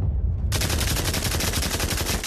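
Rapid automatic gunfire from a gun in the video game Pavlov, a dense burst of evenly spaced shots starting abruptly after a brief quiet moment and continuing to the end.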